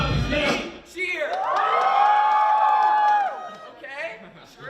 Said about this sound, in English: I'll point to you and it's your turn to cheer.